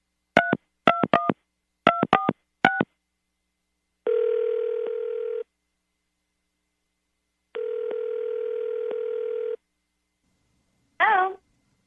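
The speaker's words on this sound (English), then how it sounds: "Kate, you ready to get him on the phone" Quick bursts of telephone keypad tones dialing a number, followed by two long ringback tones, then a voice answers.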